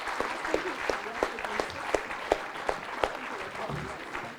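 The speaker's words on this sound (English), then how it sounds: "may I now request you all to give a loud round of applause for Colonel Mandeep." An audience applauds steadily, with a few louder individual claps standing out over a soft crowd murmur, at an International Women's Day celebration.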